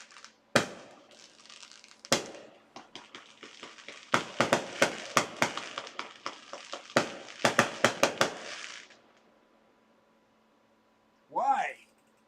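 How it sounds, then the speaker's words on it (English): Fireworks set off across the street at 11 o'clock at night, a string of sharp crackling bangs in clustered bursts, some loud and some fainter, followed by silence and a brief vocal sound near the end. "They're setting up fireworks across the street."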